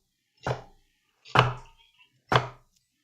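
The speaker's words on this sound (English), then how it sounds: "There's a lot of chopping to prep." Three separate heavy knife chops on a board while prepping ingredients for cream of mushroom soup, evenly spaced about a second apart, close and clear with silence between strikes.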